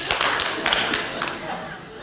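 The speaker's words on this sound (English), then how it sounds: "Somebody clapped." A lone member of a television studio audience claps a few scattered, sharp hand claps, close and distinct with no other sound.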